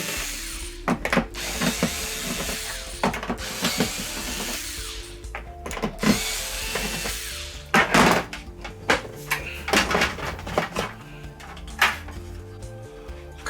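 A power screwdriver backs screws out of the rear panel of a 55-inch Vizio smart TV, giving repeated short whirring bursts with brief pauses and small clicks between them.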